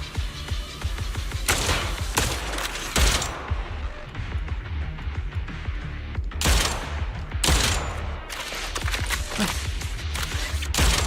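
Bursts of video game gunfire in an action game, with rapid volleys of shots arriving in several loud clusters over a busy background of game sounds.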